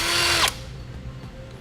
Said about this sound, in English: We need to remove that nut with a 10mm socket.